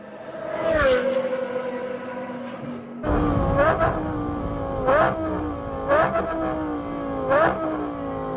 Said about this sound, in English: Those downshifts, they sound sick.